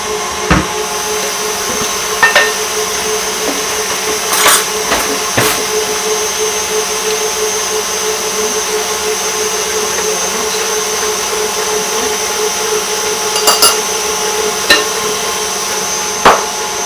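A kitchen mixing machine whirs steadily as it beats eggs for gluten-free bread, a constant motor hum and whine punctuated by occasional sharp clicks and knocks.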